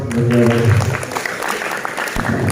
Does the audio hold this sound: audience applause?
yes